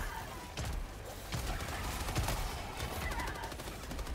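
Dense, chaotic gunfire from the co-op shooter Helldivers 2, with rapid overlapping shots and bursts at a steady loud level, plus a few sharper impact cracks punctuating the barrage.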